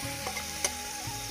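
Onions fry in a pot for chicken curry, a steady close sizzle with a few scraping stirs of a spoon against the pot over a short stretch.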